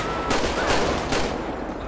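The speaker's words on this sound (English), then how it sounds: "We're under heavy fire, heavy fire." Gunfire in the video game GTA 5 sounds as a quick burst of several rapid shots over a dense, noisy backdrop, loud and continuous for about two seconds.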